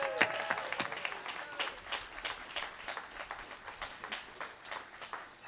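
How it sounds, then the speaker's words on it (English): Scattered clapping from a small audience at a Warner Bros. studio tour event, moderately close and loosening into uneven individual claps over about five seconds. "Please give a big round of applause for Carol Cooke and Leonard Maltin."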